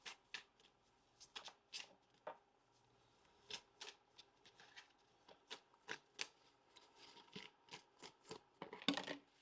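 An angel card deck shuffled and drawn from by hand, a long run of close, crisp riffling and flicking card sounds in irregular bursts, quiet and alone with no talking.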